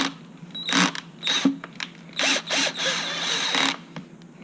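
A Phillips head screwdriver fastens screws into a Terrain/Ryder Tri gearbox, giving several short ratcheting, clicking bursts up close with brief gaps between turns, no voices.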